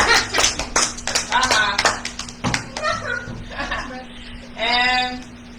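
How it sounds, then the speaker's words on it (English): A group of children claps briefly in a church kids' class, the patter of small hands mixed in with an adult voice and children talking. "Everybody give Kamar a round of applause"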